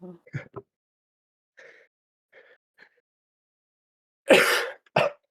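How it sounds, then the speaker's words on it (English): Coughing from a gamer during an esports tournament match, with a few throaty coughs early, soft vocal sounds in between, then a loud harsh cough burst near the end followed by one more short cough. "I am still having the cough."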